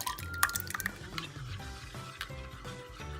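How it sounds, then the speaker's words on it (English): Half a cup of almond milk poured into a dish for a cauliflower roast: a quiet, soft liquid trickle with scattered drips and light kitchen clatter, no voices. "The last thing I'm gonna add is a half cup of almond milk"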